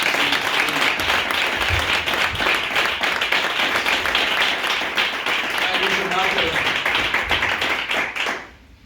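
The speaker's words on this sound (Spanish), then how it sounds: "Vamos a aplaudir todas las palmas, Señor." A church congregation claps together during a sermon, loud and continuous with voices mixed in, before the applause fades out abruptly near the end.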